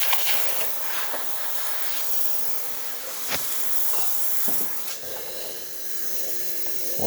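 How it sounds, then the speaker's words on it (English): A Gaggia Classic espresso machine's steam wand hisses steadily and loudly right after a full service, a continuous broad rushing spray with a few small pops and sputters along the way. "We're gonna be testing out the steamer, and as you can see, steam working excellent."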